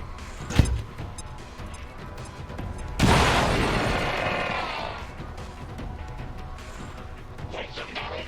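In the video game XCOM 2, a thrown grenade lands with a sharp thud and then bursts into a loud explosion whose rumble slowly fades, over faint game ambience.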